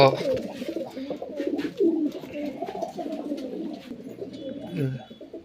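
Pigeons coo continuously in a pigeon loft, a dense layered burble of close birds with soft wing and shuffling noises throughout, loudest near the start and middle.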